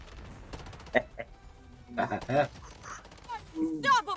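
A gun fires in the shooter game Blood Strike. Short, sharp shots come in a few scattered bursts among game effects, while someone talks over them.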